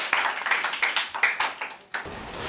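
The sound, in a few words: audience applause at a school debate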